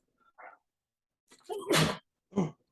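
A close, loud single sneeze preceded by a short inhaled catch, with a brief sharp follow-up sound after it, otherwise quiet.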